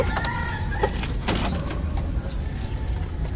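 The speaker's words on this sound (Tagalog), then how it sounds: "Ayan yung aking mga masisibang manok." Backyard chickens being fed lettuce, with clucking and short fowl calls over a steady close-up hiss and rustle.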